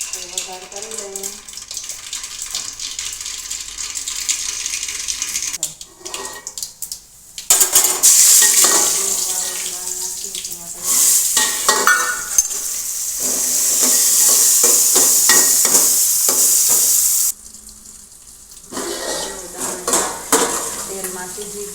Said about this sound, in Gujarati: તો વઘાર કરી લઈએ